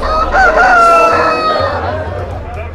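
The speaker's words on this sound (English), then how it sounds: "watching two roosters rip each other to shreds" Roosters fighting in a cockfight in China call out loud and close, harsh crowing and agitated clucks overlapping over a low rumbling background, with a voice faintly mixed in.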